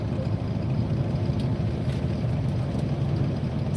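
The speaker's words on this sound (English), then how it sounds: "And I do have to start the truck" A truck engine running at a steady low idle, a continuous deep rumble close by and unchanging in level, with no speech over it.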